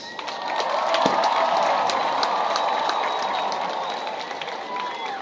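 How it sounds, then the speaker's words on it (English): A large crowd at a university graduation ceremony claps together in a dense, sustained wash of applause that swells early and holds steady, with scattered cheers rising over the steady patter. "let us clap for our parents."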